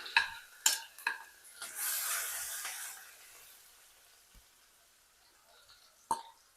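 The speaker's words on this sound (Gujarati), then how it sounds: "સૂકો મસાલો એડ કરીશું, લસણ મરચાંની પેસ્ટ એડ કરી દઈશું" Dry spices and garlic chili paste hit hot oil in a pan for dal, giving a burst of sizzling and frying with stirring clatters, then fading to a quiet simmer before one last scrape.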